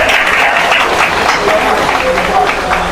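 Crowd clapping at a pigeon race prize ceremony, a steady wash of applause from many hands with a faint murmur of voices, loud and continuous throughout.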